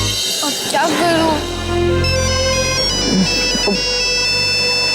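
A phone ringtone plays a bright repeating melody that runs through the whole stretch, with a voice speaking briefly over it near the start.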